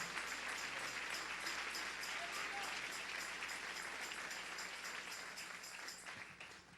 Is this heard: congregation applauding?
yes